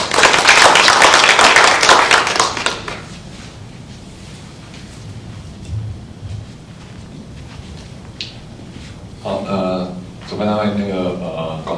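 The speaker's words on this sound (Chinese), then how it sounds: "所以请大家掌声鼓励" Audience applause at a Taiwanese disaster-prevention and sustainability forum, a loud burst of clapping for the first few seconds that then fades, followed by quieter room noise and a voice speaking near the end.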